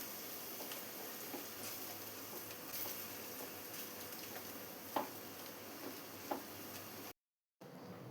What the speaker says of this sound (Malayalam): ഈ ഓയിലിൽ കിടന്ന് ചൂടായി മസാലയുടെ റോസ്മെല്ലെല്ലാം ഒന്ന് മാറി വരണം. അതുവരെ ഇതുപോലെ ഒന്ന് ഇളക്കി കൊടുക്കാം.